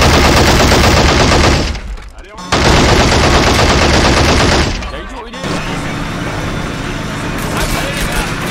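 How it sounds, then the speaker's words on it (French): Rapid machine gun bursts and heavy suppressive gunfire roar in close, loud waves in the Steel Fist: Assault Squad 2 video game, with brief lulls between volleys and dense battle noise throughout. "Tire de suppression."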